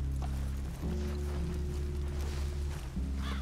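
Horses' hooves clip-clop in Red Dead Redemption II, a steady run of near hoofbeats over a constant low rumble of game ambience, with no talk.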